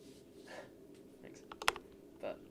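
Faint, sparse keystrokes on a Grid650 mechanical keyboard with Gateron Black Ink switches, a few scattered clicks with one sharper tap near the middle, heard at low level over background hum.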